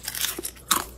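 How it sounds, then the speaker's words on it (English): Crunchy bite into a chive-topped dish, a few close crisp crackling crunches within about a second, loud and up front with no talk. "Crunchy and delicious."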